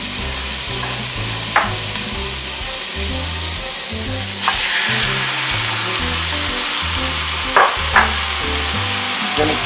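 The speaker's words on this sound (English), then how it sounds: "So now we're going to add the meat." Ground beef for a Super Bowl chili hits a hot pan with cooked onions and garlic, setting off a loud, steady sizzle, with occasional spatula taps and a low rhythmic hum underneath and no speech.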